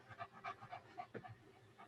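Dog panting at close range in a quiet room, a steady run of quick breathy huffs repeating about every quarter second, with no voices.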